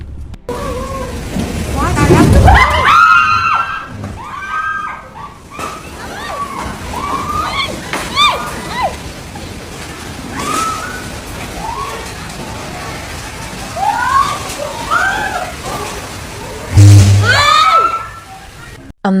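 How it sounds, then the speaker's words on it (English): A torrential storm floods streets in Thailand: rushing, sloshing water and heavy rain run continuously at high volume, with splashing surges and voices breaking through in places. "Torrential rain and howling winds turn streets into chaotic torrents, making movement impossible."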